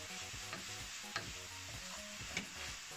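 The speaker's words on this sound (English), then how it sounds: "at this stage you just have to continue stirring it so that it will not get burnt" A thick coconut candy mixture is stirred in a pan, a spoon working through it with soft rhythmic scrapes and occasional taps against the pan over a faint steady sizzle, quiet and close.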